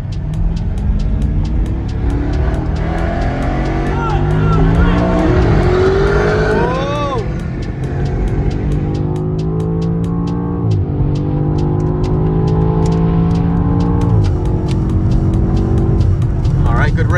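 A Lamborghini Urus and a BMW accelerate hard side by side from a 30 mph rolling start. The loud engine roar climbs steadily in pitch as both cars pull, with tire noise near the middle.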